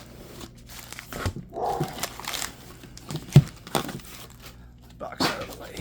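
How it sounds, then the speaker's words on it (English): A pet dog barks in short, sharp bursts scattered across the moment, fairly close, mixed with card-pack crinkling and handling noise while someone talks. "The dog will stop barking eventually."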